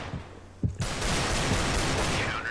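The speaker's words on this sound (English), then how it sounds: "you shot him through the bloody railing" In Counter-Strike: Global Offensive, a sharp gunshot cracks out, followed by a burst of loud, rattling in-game gunfire and effects that keep going to the end.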